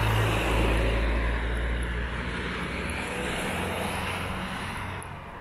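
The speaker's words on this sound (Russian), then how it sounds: "тоже какой-то старенький трактор" An old tractor engine runs as a steady, loud low rumble, close by and continuous, in the streets of the old mountain town of Cetinje.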